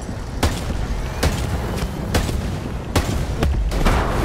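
Video game explosions, with several sharp booms landing at irregular intervals over a continuous rumbling background roar. The blasts are loud and close, and nobody speaks.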